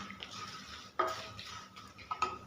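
Soft sizzling of spices with turmeric sautéing in a pan, with a few clinks and scrapes of a spoon stirring, close and intermittent.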